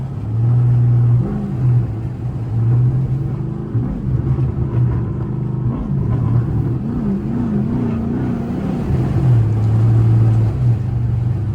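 A Chrysler 300C accelerating hard, heard loud from inside: a deep engine drone climbs in pitch, dips during a slow gear change, then pulls again, with no talk.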